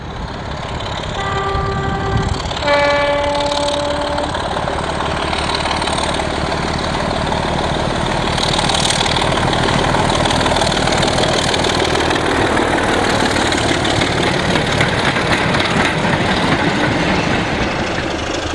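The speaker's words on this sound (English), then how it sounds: "A visiting 24081 approaches Llangollen Junction on the Nene Valley with an East Midlands photo sock charter in February 2008." Class 24 diesel locomotive 24081 draws near on a heritage railway line, a loud, steady engine drone lasting throughout, with a brief horn blast near the start and rail rumble under it.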